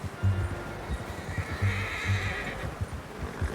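A horse in the video game Red Dead Redemption 2 whinnies loudly twice amid rhythmic hoof clops and low rumbling, with a faint hiss of wind in the background.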